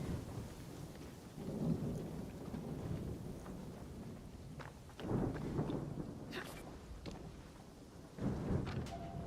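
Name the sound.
thunderstorm with rain in a video game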